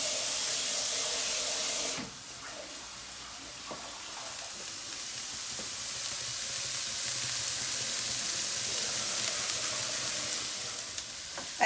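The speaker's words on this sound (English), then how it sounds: "Okay, so onions cooking away." Onions frying in a pan give a steady, loud sizzle that runs throughout with no talking, dipping briefly near the start before settling back into a constant hiss.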